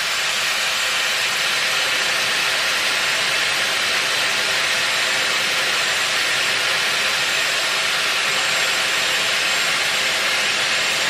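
Dyson Airwrap hair styler blowing a steady, loud rush of air while curling hair, a continuous broadband whoosh that holds unbroken with no voices over it.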